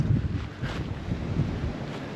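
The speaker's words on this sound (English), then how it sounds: "The wind is chilly over here on the backside of this mountain too." Chilly wind blows across the backside of a mountain along a backcountry trail, rumbling steadily and buffeting the microphone with low gusts for about two seconds, with no talking.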